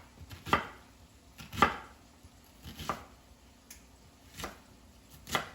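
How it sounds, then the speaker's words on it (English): A kitchen knife slices through onions on a cutting board, about half a dozen crisp, separate chops spaced roughly a second apart, close and clear with no talking. "So I'm going to cut up some onions."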